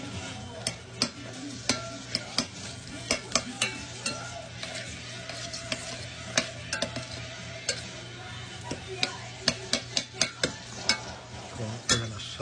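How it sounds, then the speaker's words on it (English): Onions sautéing in a pan while being stirred: a steady sizzle runs throughout, punctuated by repeated sharp clicks and scrapes of the utensil against the pan, close and clear. "We're going to saute that."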